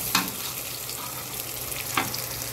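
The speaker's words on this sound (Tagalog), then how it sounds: "Haluhalin lang po mga kamadam ko, sir, hanggang sa maging brown yung bawang tsaka sibuyas." Garlic and onion sauté in a pan for pork binagoongan, giving a steady close sizzle with two brief scraping stirs of a utensil across the pan.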